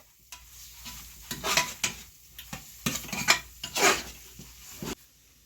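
Masala powders are stirred and sautéed in a pan, with bursts of scraping and clattering from the spoon against the metal over a faint sizzle, coming in irregular strokes and close by.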